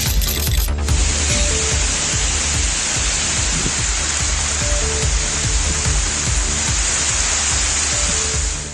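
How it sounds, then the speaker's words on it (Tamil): Heavy rain lashes down with gusty wind in Thanjavur district, Tamil Nadu, a loud, unbroken hiss of downpour with soft patters throughout. "தஞ்சாவூர் மாவட்டத்தில் பல்வேறு பகுதிகளில் சூறைக்காற்றுடன் கனமழை வெளுத்து வாங்கியது"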